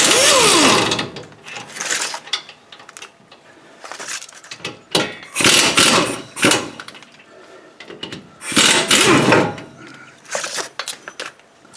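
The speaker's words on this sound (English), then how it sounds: "I'll take these bolts out here" Bolts coming out of a Ford F-150 rear differential assembly, with repeated bursts of ratcheting and wrench clatter alternating with short pauses, loud and close in a workshop.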